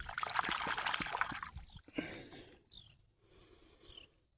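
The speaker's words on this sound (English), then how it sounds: "Right there's water." Water pours and trickles in a creek in the Alabama hills, a steady, fairly close splashing that fades and thins into a quieter dribble.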